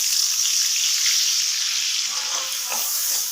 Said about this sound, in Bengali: পেঁয়াজ ভাজাটা আমি 10 মিনিট ভেজে নেব